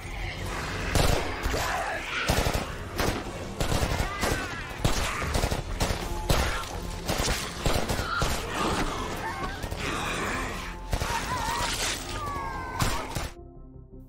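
Gunfire in a zombie film, a rapid, loud barrage of sharp shots and impacts over a dense cinematic score, with shattering crashes and shouts mixed in throughout.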